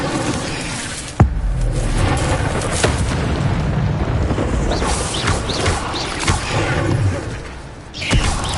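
An Incendio fire spell cast in Hogwarts Legacy: a loud, sharp burst and then a sustained roaring, crackling rush of flame, with further whooshing flares and a final swell near the end.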